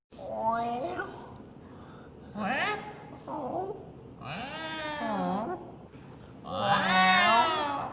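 A person imitates a cat with a series of drawn-out, wavering meows, several separate calls with short pauses between them, close and fairly loud.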